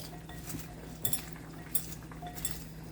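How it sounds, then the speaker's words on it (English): Onion rings dusted with garlic powder get tossed in a bowl, making a few light clinks and soft scraping shuffles, fairly quiet and close, with no talking. "I'm going to give this a toss. Get each onion ring coated"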